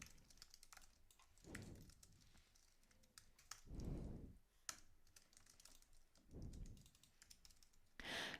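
Python code being typed on a computer keyboard: quick, close bursts of key clicks with short pauses, a few heavier thumps mixed in, no talk.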